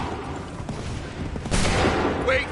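Redcoat musket volley in Assassin's Creed III, a sudden loud crackling burst of massed gunfire about halfway through, following a stretch of quieter game ambience.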